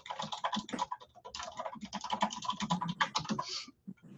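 Rapid keystrokes on a computer keyboard as a post is typed, a close, steady run of crisp clicks that pauses briefly near the end, with no talking.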